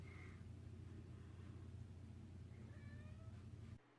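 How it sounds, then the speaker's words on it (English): A pet cat meows outside a closed room door, wanting in: a short cry early on, then a longer, slightly wavering meow later, moderately close over a low steady hum. "that's my cat."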